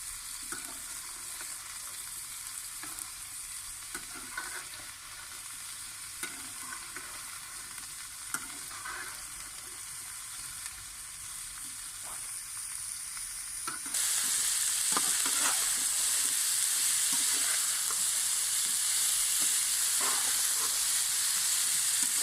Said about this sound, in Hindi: इन्हें हमने अच्छे से फ्राई कर लेना है।